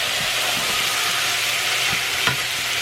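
Chopped chicken thigh and beef stew sizzle steadily in a hot pan, a constant close frying hiss with a few soft stirring knocks, and no voices.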